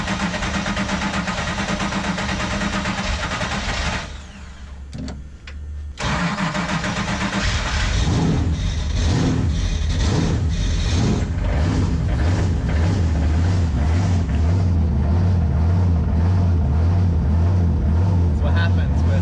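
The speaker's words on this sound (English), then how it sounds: "That's what happens with 900 horsepower cold start." A 900-horsepower engine cold-starts in a shop after several failed attempts, cranking briefly, cutting out, then catching and roaring into a loud, rough, steady idle that fills the space.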